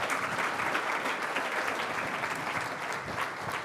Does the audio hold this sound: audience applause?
yes